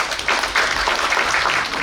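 Applause from an audience at a book launch event in Korea greets a guest speaker. Dense, steady clapping fills the whole moment at a fairly loud level without pause.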